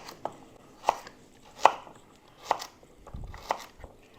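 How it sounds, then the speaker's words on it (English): A knife chops thin carrots into rings on a board: five or six crisp, evenly spaced chops, close and clear, with a soft low thump near the end and no talking. "If you have some really thin carrots, I'm going to cut them into rings"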